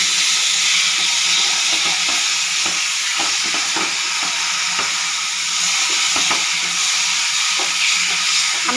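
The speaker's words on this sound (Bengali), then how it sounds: "আমি এটা অনবরত চিনি দিয়ে নাড়তে থাকবো।" Mango pulp and sugar are stirred continuously in a hot pan while cooking down into mango jelly, producing a steady loud sizzle and bubbling hiss with frequent scraping taps of the spoon against the pan.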